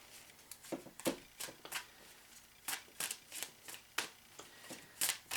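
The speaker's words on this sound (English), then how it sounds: "I am going to keep shuffling." Tarot cards are shuffled by hand in a steady stream of soft, papery flicks and riffles, close up and continuous, with no one talking.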